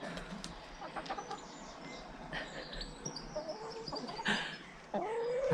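Chickens cluck and squawk in a busy backyard flock near a quail run, with several overlapping calls, scattered sharp peaks and rustling, heard at a modest, fairly distant level.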